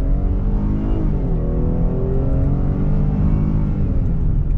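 A 2021 Dodge Durango G/T V6 accelerates, its engine note rising in a continuous, loud cabin drone with climbing harmonic whine over about five seconds.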